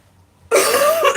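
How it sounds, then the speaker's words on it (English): A single loud, close cough bursts out abruptly after a short silence, harsh and throaty with a brief rasping tail. "I almost feel like I'm about to have a coughing fit."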